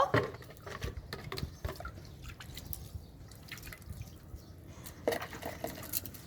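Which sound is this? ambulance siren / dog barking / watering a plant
watering a plant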